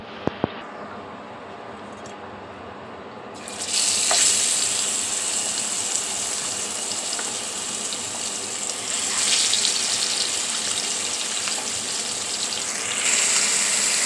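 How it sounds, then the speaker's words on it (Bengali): Rohu fish pieces dropped into hot oil in a frying pan, a quiet hiss jumping to a loud, bright sizzle that stays steady and swells again as more pieces go in. "এখন মাছগুলো ভেজে নিব তো এই তো ফ্রাই প্যানে আমি তেল বসিয়ে দিয়েছি তেলটাও গরম হয়ে গেছে এখন মাছগুলো দিয়ে দেবো"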